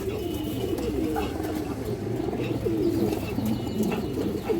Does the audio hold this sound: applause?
no